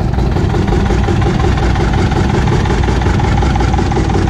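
An antique John Deere R tractor engine idles at an outdoor tractor cruise, a loud, close, steady low rumble with an even throb that continues unbroken and without talk.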